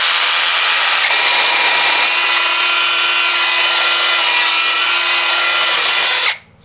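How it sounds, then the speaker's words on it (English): A power drill with a 16mm bit grinds through an outside wall, following a pilot hole, in a loud, steady, close-up roar that holds for about six seconds before cutting off abruptly. "And now I'll just follow my pilot hole with the 16mm bit."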